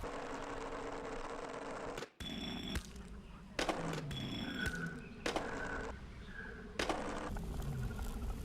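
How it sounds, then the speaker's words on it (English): Skateboard wheels roll in Disney's Extreme Skate Adventure, a steady gritty rumble broken by sharp clicking bursts and short electronic tones from the game. "Now it makes skateboard wheel noises."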